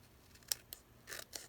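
Scissors snip through a paper edge in a few short, crisp cuts, close and fairly quiet, with small rustles between the snips.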